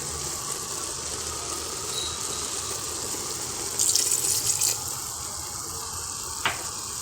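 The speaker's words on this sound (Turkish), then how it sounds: "Şimdi ben üzerine bir, bir buçuk su bardağı su koyup ağzını kapatacağım." Water pours into a pan over cooking meat, a steady, close running and splashing flow with a brief louder gush midway and a small clink near the end.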